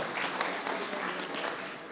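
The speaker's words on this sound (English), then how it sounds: "please give those people a round of applause" An evening pitch-day audience applauds its mentors, a dense, steady wash of many hands clapping at a moderate distance, with no voices standing out.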